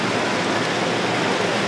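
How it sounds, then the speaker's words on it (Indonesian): Steady rain falls throughout, a dense, even hiss like a downpour heard from a sheltered eating spot, with no speech over it. "Pas kita makan, tiba-tiba hujan"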